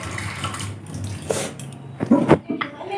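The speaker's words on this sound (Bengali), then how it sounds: "দাঁড়াও, হাত ধুয়ে দিই" Running tap water rinses a small child's hands after they touched rice at home. A close, continuous splash sounds under a voice, with a few louder splashes and clatters near the end.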